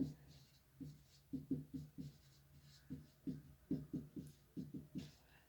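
Short, rhythmic chalk strokes tap and scrape across a classroom board in quick clusters and pauses, close and fairly clear, with a voice faintly present at times.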